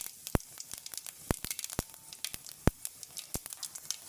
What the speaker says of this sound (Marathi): हें तेल तापोलें, आतां जिरा घालया.